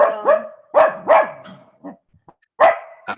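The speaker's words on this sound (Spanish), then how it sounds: "te está saliendo un ladrido" A dog barks in several sharp, loud, close bursts with yips and whimpering tones between them, heard alone during an online meeting.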